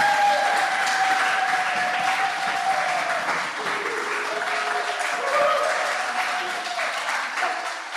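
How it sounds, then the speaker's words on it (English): An audience claps and cheers after poetry readings at an art space, dense sustained applause with whoops and rising shouts filling the room for several seconds. "Can we do one more cheer?"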